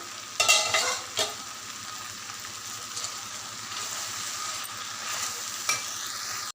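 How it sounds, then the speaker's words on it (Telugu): Snake gourd curry frying in a pan on the stove, with a steady sizzle and a few sharp scrapes of a spoon as it is stirred, fairly close and with no talking. "మూత తీసి మధ్య మధ్యలో కలుపుతూ ఉండాలి"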